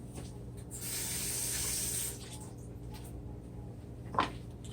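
Beetroot and vegetables rinsed under a kitchen tap while preparing spicy pickled beets: a hissing spray of running water for about a second, then a quiet background and a single sharp clunk near the end.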